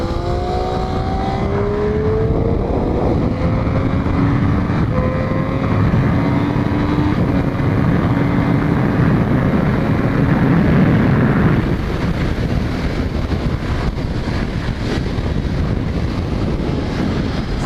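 A race car accelerating hard on the counterclockwise circuit at Thompson Speedway, its engine note climbing in rising harmonic sweeps, loud and steady with heavy wind rush over the microphone throughout.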